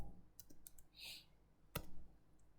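Sparse keystrokes on a computer keyboard while writing in a code editor, a handful of quiet light clicks with one sharper tap near the end, faint and close in an otherwise quiet room.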